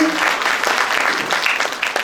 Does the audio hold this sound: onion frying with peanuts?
no